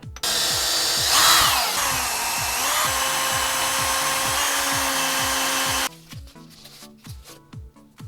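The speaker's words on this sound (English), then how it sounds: "Go up to the 1-inch drill bit." A power drill with a 1-inch bit bores a hole through foam, whining loudly and steadily for about six seconds, then stops, followed by scraping and handling noises.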